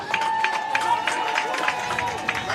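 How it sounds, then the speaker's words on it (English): Crowd applause and cheering in the stands at a high school varsity football playoff game, Mount St. Michael versus Holy Trinity, a steady distant roar of clapping that runs under a male announcer's voice. "Round of applause for the boys."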